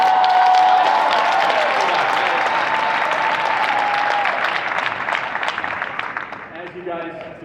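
Loud crowd applause at a large Turning Point USA convention finale, dense clapping that holds strong before gradually thinning and fading toward the end, with a voice starting to speak over it.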